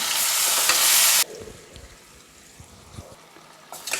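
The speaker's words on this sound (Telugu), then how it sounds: "ఇప్పుడైతే ఆయిల్ హీట్ అయింది చికెన్ అయితే వేసుకున్నాం" Chicken pieces hitting hot oil for a chicken curry, with a loud, bright sizzle for the first second before the frying drops to a softer crackle, broken by a few scrapes of stirring.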